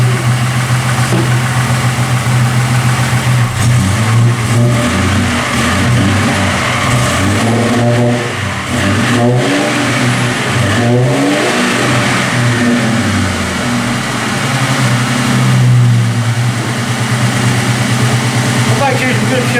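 A 1995 Mustang engine running close by, its idle steady with slight rises and falls in engine pitch, while someone talks over it throughout.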